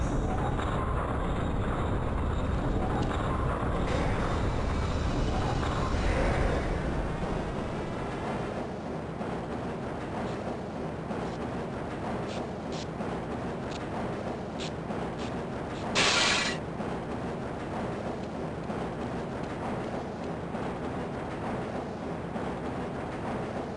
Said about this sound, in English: This train is now transferring to the Sector C line of the transit system.